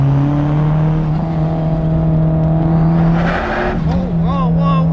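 A 1990 Toyota Camry turbo, front-wheel drive, accelerating hard out of a turn on a canyon road, with a loud steady engine drone that rises and briefly chirps like tire squeal near the end.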